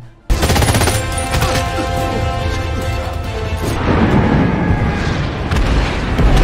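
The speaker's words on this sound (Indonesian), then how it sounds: "Hal ini membuat tentara Amerika banyak yang tertembak termasuk Smithy." Loud, continuous battle gunfire as Japanese soldiers launch a surprise attack in the war film Hacksaw Ridge, dense rapid shots and blasts filling the whole stretch without a pause.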